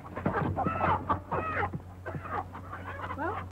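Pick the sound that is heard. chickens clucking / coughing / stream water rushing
chickens clucking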